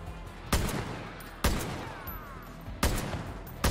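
Enemy gunfire in the Far Cry New Dawn shooter game: three loud, sharp shots spaced about a second apart, each with a ringing tail, over a low background hum.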